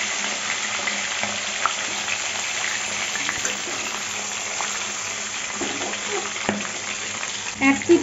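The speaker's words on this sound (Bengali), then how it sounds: "তেলটা গরম হয়ে গেছে। এখন মাছগুলি ভেজে নেব।" Katla fish fries in hot mustard oil in a heated pan, giving a steady close sizzle and crackle throughout, with a few soft clinks near the end.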